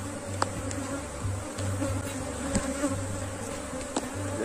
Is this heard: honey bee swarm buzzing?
yes